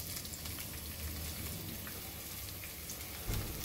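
Onions and curry leaves sauté in a pan for a Goan chicken gizzard chilli fry, a steady close crackling sizzle that holds evenly throughout with no voices over it.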